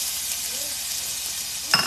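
Onion, garlic and ginger sizzle steadily in hot oil in a pan, a close, even hiss throughout, with a brief clink of a utensil near the end.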